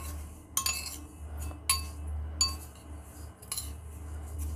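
A metal spoon clinks against a dish while sesame balls filled with red bean paste are rolled in sesame seeds. Four sharp, bright clinks come at uneven intervals over a quiet kitchen background, close by and with no talking.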